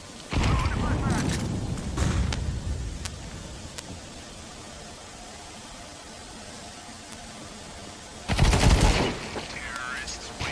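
Video game gunfire and explosive bursts in a Counter-Strike-style terrorist round, with a grenade going off among rapid, loud shots in two clusters near the start and again after a quiet stretch, under a faint background hiss.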